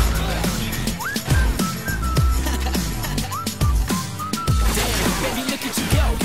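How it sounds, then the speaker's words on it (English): Whistled melody carried through a song, with gliding pitched notes repeating over a steady, busy musical backing with drums, loud and continuous throughout. "so I just whistled at her"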